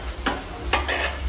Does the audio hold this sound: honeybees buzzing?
no